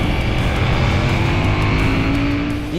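A 2021 KTM 890 Duke motorcycle with its LC8C engine, rated at 115 horsepower, pulls hard while riding, giving a loud, sustained engine note with rising pitch and rushing wind, close and alone.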